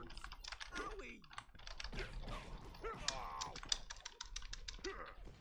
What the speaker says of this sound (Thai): ขออภัยท่านผู้ชมนะครับเพราะเสียงแป้นพิมพ์เนี่ยมันอาจจะดังมาสักนิดนึง